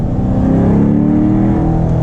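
A used 2014 Corvette C7 with a manual gearbox and aftermarket exhaust revs hard toward 5,000 RPM, its loud, close engine note rising in pitch over about two seconds with no talking.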